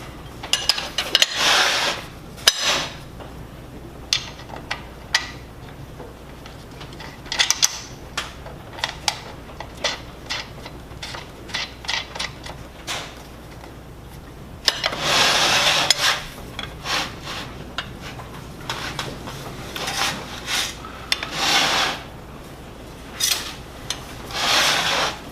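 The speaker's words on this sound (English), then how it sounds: "shoulder bolts do have nylock nuts, so I'm just gonna loosely put those in" Shoulder bolts and nylock nuts are fitted loosely during a machine assembly, giving irregular metallic clicks, rubbing and scraping of small parts close up, with no talking.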